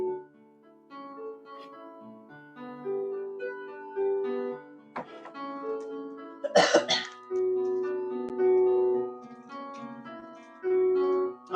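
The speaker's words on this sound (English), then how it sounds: "Last thing I want to do is cough in your face." A man coughs once, sharply and close, in the middle of a stretch with music and singing; the cough is a brief, harsh burst standing out from the tonal background.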